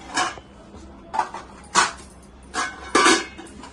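Food served onto steel plates at home for a garlic chicken lunch, with five separate bursts of clinking and scraping of dishes and utensils, close and fairly loud, with quiet gaps between.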